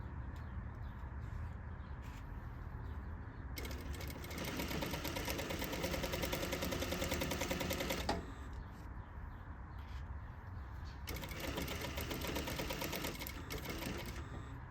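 Sewing machine stitching a pocket flap with a quarter-inch seam: two long bursts of steady, rapid mechanical whirring, close and fairly loud, separated by a pause with a low motor hum.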